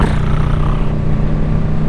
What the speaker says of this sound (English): Bike's purring along with this exhaust on